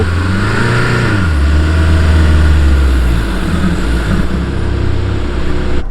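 A 2200 kg Land Rover Discovery Sport's engine revs hard off-road near maximum rpm and stays at high pitch, droning steadily with slight rises and falls, heard from inside the vehicle.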